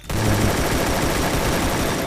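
Sustained automatic gunfire in the battle royale game Free Fire, a dense, loud burst of rapid shots filling the whole moment with no talk.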